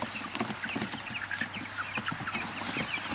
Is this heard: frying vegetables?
no